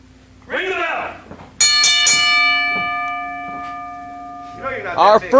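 A wrestling ring bell is struck to start a bout, ringing out clearly with a sustained metallic tone that slowly fades while an announcer speaks before and after.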